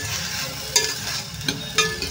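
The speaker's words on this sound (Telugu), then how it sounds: "ఉల్లిపాయలు అనేది ఫ్రై అవుతున్నాయండి" Onions fry in hot oil for a steady close sizzle, with a few brief stirring clacks at a slow, even pace and no voices.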